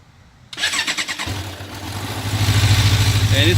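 A cold 1994 Suzuki Katana 600 motorcycle starts on full choke: a brief whirring crank, then the engine catches and settles into a loud, close, steady idle that rises slightly as it runs.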